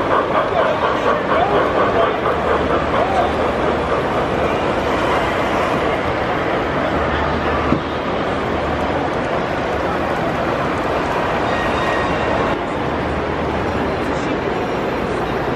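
O scale and other model trains run on layouts at a large indoor train fair, a steady loud rolling rumble filling the hall with crowd murmur and faint talk throughout.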